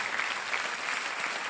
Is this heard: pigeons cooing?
no